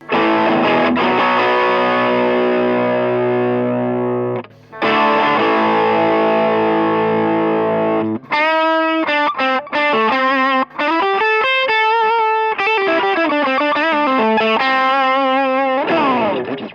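An electric guitar runs through a Dallas Arbiter Lead 100 solid-state amp with a Noble ODR1 overdrive at gain about 7. It plays loud, gritty sustained chords, then a fast run of separate overdriven notes and bends, without talk.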